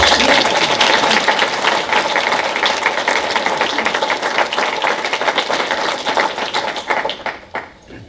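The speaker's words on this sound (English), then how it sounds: "Can we please give him a round of applause, please?" At a chamber awards ceremony, an audience claps in a dense, lively burst with distinct individual hand strikes that gradually thin out and fade toward the end.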